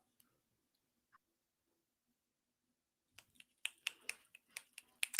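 Finger snaps crackle in a quick irregular burst of about eight sharp, close, fairly loud clicks near the end, following a quiet stretch.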